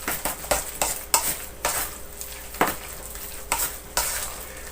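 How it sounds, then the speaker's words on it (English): Potato bread mixture being stirred in a pan on the stove, a close run of scraping spoon strokes against the pan over a steady soft sizzle, with no voices. "We'll give it a good stir."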